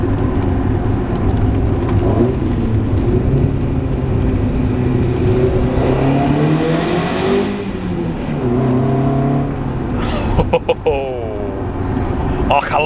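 A Lotus Excel S.E. engine with twin carburettors rumbles steadily up close, then revs up and drops back down, the pitch climbing and falling before settling.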